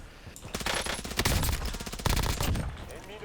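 Rapid automatic gunfire in a shooter video game, two dense bursts of loud crackling shots with brief pauses, with faint game sounds around them.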